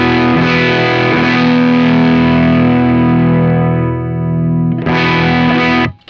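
Bass guitar played through a DIY high-voltage tube overdrive pedal with bass and treble controls turned full up: a loud, buzzing, distorted sustained note that fades, then a second hard-hitting note rings before cutting off.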